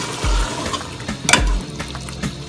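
Mutton with homemade dried fenugreek frying in a pan for aloo gosht, giving a steady low sizzle broken by spoon-stirring scrapes and a few sharp clinks, close and clear.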